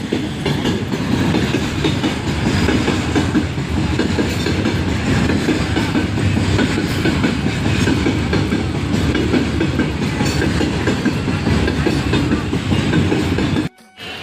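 A train passes on a railway, its close, steady rumble and rhythmic clatter of wheels filling the whole clip before cutting off abruptly near the end.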